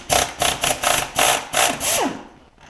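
A pneumatic air impact tool rattles bolts loose on a Peerless 820 transmission teardown, about seven loud, close bursts of hammering in quick succession, the last one longer before the tool spins down into quiet.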